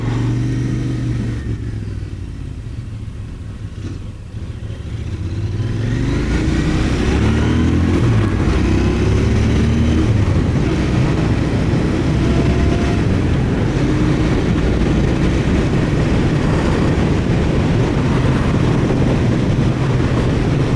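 A Royal Enfield Interceptor 650 motorcycle engine pulls up through rising revs on back roads, starting quieter, then building to a loud sustained roar with wind rush as it accelerates.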